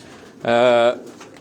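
A single Kamagar breed pigeon coos once from a rooftop loft in Karachi, a short close call lasting about half a second against a quiet background.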